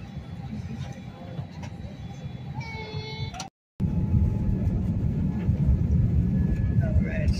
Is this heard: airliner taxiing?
yes